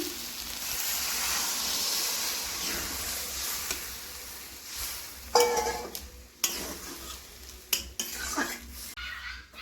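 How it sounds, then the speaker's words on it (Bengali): Water poured into a hot pan of frying banana flower and chili powder hisses loudly and steadily for about five seconds, then gives way to sharp scrapes and clatters of a spoon stirring against the metal pan. "এবারে আমি জল দিয়ে দিচ্ছি"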